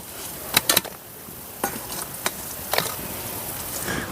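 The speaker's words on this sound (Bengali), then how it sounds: "ওই তেলেই আমি ফোড়ন দিয়ে দিচ্ছি একটা তেজপাতা, 2টো দারুচিনি, 2টো থেতো করা এলাচ আর 3টা লবঙ্গ" Bay leaf, cinnamon, crushed cardamom, cloves and cumin land in hot oil left from frying paneer, giving a soft steady sizzle with a few sharp clicks and spatters of whole spices hitting the pan.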